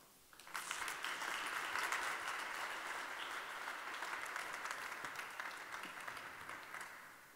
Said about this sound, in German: Und Sie bekommen auch einen Applaus.